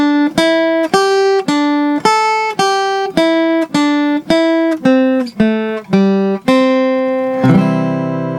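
An acoustic guitar plays a slow melodic line of about a dozen single plucked notes, evenly spaced, ending on a ringing strummed chord.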